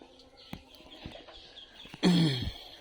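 Ducks on a small farm call faintly in the background before one loud, close, nasal quack near the end, with little else around.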